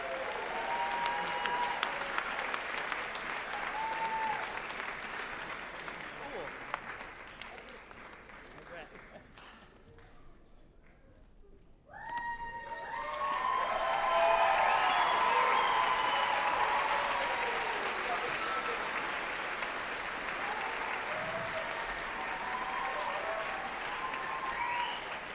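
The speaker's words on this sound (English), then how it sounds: "how about one more round of applause?" Sustained crowd applause fills the room at a college commencement ceremony, dipping briefly midway before swelling back into loud, steady clapping that continues to the end.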